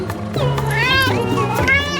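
A cartoon cat meows in a few drawn-out, rising and falling calls, mixed with voices and busy background sound in an animated prank-war scene.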